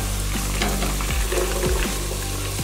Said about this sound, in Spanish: pero antes vamos a agregarle la cebollita